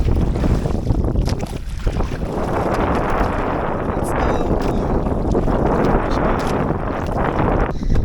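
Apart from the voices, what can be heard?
strong wind at sea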